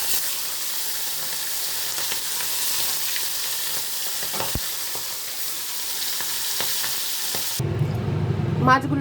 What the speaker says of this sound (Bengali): বেগুনটা হালকা ভাজবো